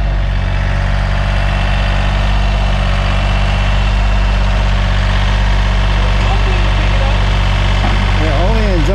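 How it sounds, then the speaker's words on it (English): A tractor engine runs steadily and loudly at close range while lifting a tiny house on a homestead, a constant low, heavy drone that holds for the whole stretch. "He's going to lift it up with a tractor."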